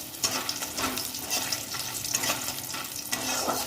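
Kalai greens cooking with bori in a pan, giving a quiet, steady sizzle and crackle with soft stirring scrapes and no talking.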